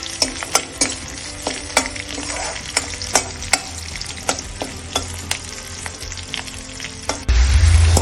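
Ground masala paste frying with onions in hot oil: a steady, close sizzle with regular scraping stirs of a spoon against the pan, rising to a louder hiss near the end.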